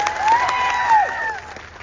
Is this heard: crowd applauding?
yes